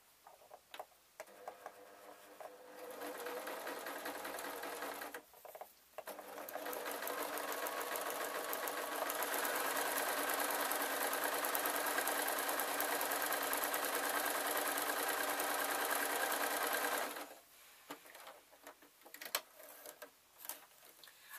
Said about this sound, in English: I'm going to put one line of stitches along there